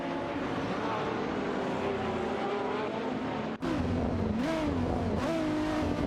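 Race cars in a racing video game, including a Nissan 350Z GT300, engines whining together at high revs, one pitch sweeping up and down as cars pass, loud and continuous with a brief cut midway.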